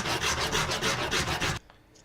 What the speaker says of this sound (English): I'm just gonna have my piece of sandpaper here and I'm just gonna rub down these edges, just kind of smooth them out.